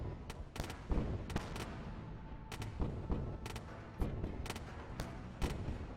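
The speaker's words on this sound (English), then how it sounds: "That's why I'm just kind of shooting into it like this." Spaceship weapons fire in the space video game Wayward Terran Frontier: Zero Falls, with sharp irregular shots popping repeatedly over a low rumbling background, moderately loud and with no talking.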